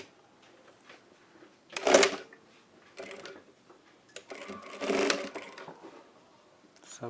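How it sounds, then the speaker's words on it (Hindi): A sewing machine stitches strips of kurta fabric in two loud, close bursts of rapid mechanical whirring, separated by quieter handling noises and pauses. "अब इनमें इस तरह सिलाई लगा लें।"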